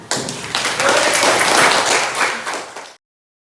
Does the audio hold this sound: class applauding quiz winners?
yes